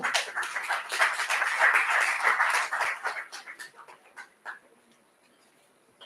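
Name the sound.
audience applause after a summit speech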